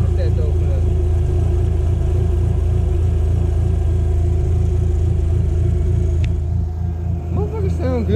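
A Dodge SRT-4 engine idles with a steady, loud rumble close by, holding an even drone that dips and swells slightly near the end as it is blipped.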